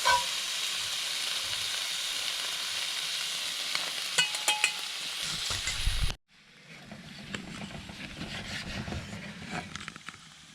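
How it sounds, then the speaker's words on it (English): Steak fajitas sizzle and crackle hard in rendered steak fat over a penny can stove, a loud, dense frying hiss with occasional pops, briefly breaking off before a softer sizzle resumes amid stirring. "Was like cooking these in the fat, steak fat."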